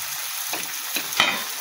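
Potato pieces frying in a pan with turmeric, chili powder and salt sizzle steadily and close up, with a couple of soft stirring scrapes through the short burst.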